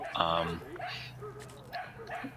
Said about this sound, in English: you can hear we're by the dog park here, all the dogs yapping